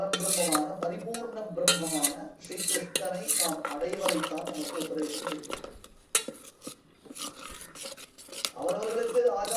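Millet koozh being stirred and mixed in a pot, with near-continuous close scraping and clinking of a utensil against the metal over steady background sound.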